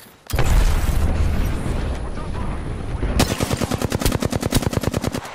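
Gunfire in the video game Apex Legends: a loud, sustained burst of shots opens, then a rapid rhythmic string of automatic fire follows, each round distinct and close.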